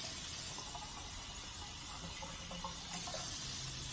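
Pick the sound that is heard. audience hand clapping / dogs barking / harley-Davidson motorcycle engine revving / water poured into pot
water poured into pot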